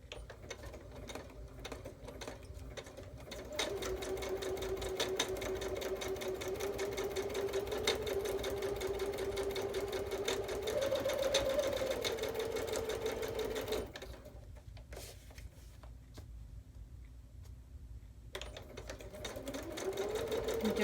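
Domestic sewing machine stitching free-motion without a presser foot, a steady whirring drone that starts, runs continuously, pauses to near silence, then starts up again at close range.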